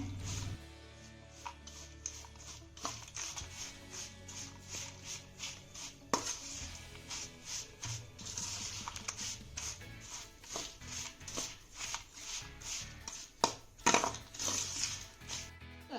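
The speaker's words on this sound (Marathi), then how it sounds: "इथे गुळ मी बारीक असा चिरून घेतलेला आहे यामध्ये घालूया हा गुळ आपल्याला आवळ्यांमध्ये चांगला असा मिक्स करून घ्यायचा आहे" Chopped jaggery is stirred into Indian gooseberries in a pot, giving repeated scraping and clinking of a spoon against the metal pot with soft rubbing and a few sharper knocks, with no talk.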